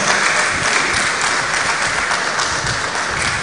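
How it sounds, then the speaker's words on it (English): Crowd applause at a Lagos State event, a full continuous roar of clapping from many people, fairly loud and sustained without a break. "Please, a round of applause."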